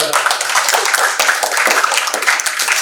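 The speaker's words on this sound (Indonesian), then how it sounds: "kita beri tepuk tangan buat Bigi" Students in a classroom clap for a classmate about to present for their group, a close, loud, continuous patter of many hands lasting the whole stretch.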